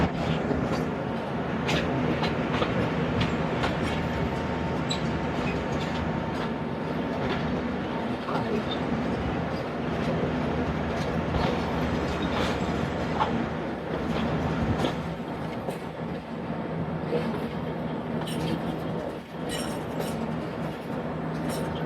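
The Sialkot Express passenger train rolls steadily through open countryside, its loud continuous rumble joined by rattling carriages and scattered metallic clinks from the wheels on the rails.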